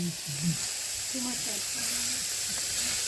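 Vegetables fry in a hot pan for a chicken wrap, a steady broad sizzling hiss running throughout, while voices murmur faintly underneath.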